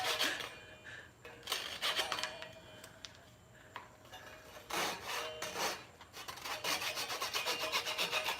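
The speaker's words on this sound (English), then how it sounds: "I'm just going to cut the ends off again with the saw" A hand saw cuts the ends off a piece of wood during a craft demonstration, giving bursts of raspy back-and-forth strokes with short pauses between them at close range.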